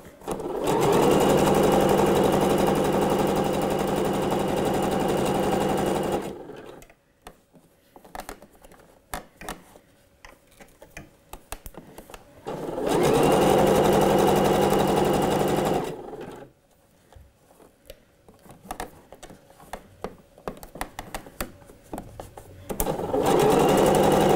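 A home sewing machine stitches elastic along a marked line on a dress, running in two long steady bursts of motor whir separated by quieter pauses with small handling clicks and fabric rustles.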